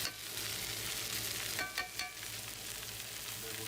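A knob of butter sizzling in a hot pan alongside a steak, a dense, steady frying hiss with a few brief clinks of tongs midway, close and constant with no talk.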